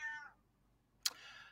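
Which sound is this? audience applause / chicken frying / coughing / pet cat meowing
pet cat meowing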